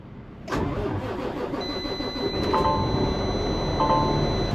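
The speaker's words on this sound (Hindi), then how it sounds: "ट्रक स्टार्ट करना है" A blue Peterbilt truck's engine cranks and catches about half a second in, then runs as a loud, steady rumble with a brief higher mechanical whine layered on top, no voices present.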